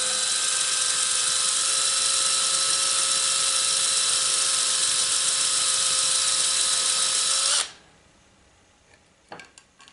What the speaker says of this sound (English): With a whole lot of luck, I can get a hole drilled without going through the side.